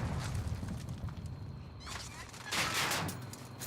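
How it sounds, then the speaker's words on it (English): An explosion in Warzone, the Call of Duty battle royale, played in solos, booms through dense ongoing gunfire and game noise. A sharp burst rises late, loud and close, over a constant rumble. "Interrupted by an explosion."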